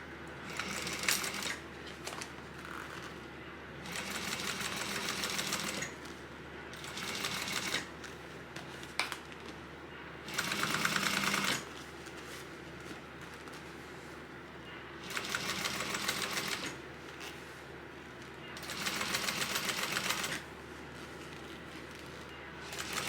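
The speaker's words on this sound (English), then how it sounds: "then we're going to also top stitch this at 1/8 of an inch" A sewing machine top stitches a tote bag at an eighth-inch seam, running in five or six steady bursts of several seconds each, separated by short quiet pauses with faint handling noise.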